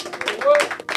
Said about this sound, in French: Bah applaudissements quand même